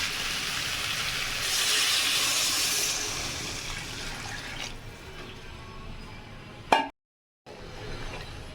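Water poured into a hot pan of frying dry fish and radish curry gives a loud hissing sizzle that builds, fades, then ends in a sharp clatter and a moment of silence.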